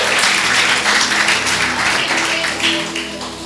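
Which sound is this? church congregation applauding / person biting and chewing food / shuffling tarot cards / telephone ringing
church congregation applauding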